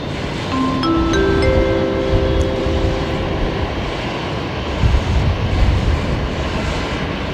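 A Singapore Airlines A350-900 taxis along a taxiway at Brisbane Airport, its engines a loud, steady, broad roar with thin whining tones layered on top.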